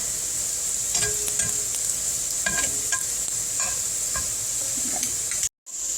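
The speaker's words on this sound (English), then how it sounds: "We're going to let them cook a little bit on the other side." Plantains fry in a pan after being flipped, giving a steady close sizzle with scattered pops and a few utensil clicks, no voices, and a brief dropout of silence just before the end.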